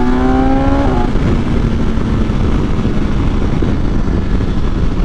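A BMW S1000XR sport-touring motorcycle engine accelerates hard on twisty roads, a loud, close, continuous roar with wind rush and a rising rev at the start.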